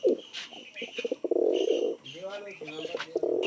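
Pakistani pigeons cooing close by in a loft, soft throaty rolling calls repeating over a few seconds, with a person talking intermittently among them.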